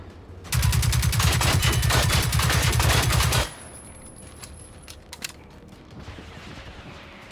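Rapid, tightly spaced automatic bursts from a missile barrage in Generation Zero, loud and sustained for about three seconds before cutting off, followed by quieter scattered impacts and faint ambience.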